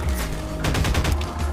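Rapid automatic gunfire aimed at Combine soldiers in Half-Life 2: Lost Coast, a dense burst of closely spaced loud shots over a rumbling game background, with no speech.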